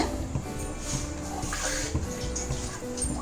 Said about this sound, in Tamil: இன்னும் கொஞ்சம் தண்ணி ஊற்றிக்கோங்க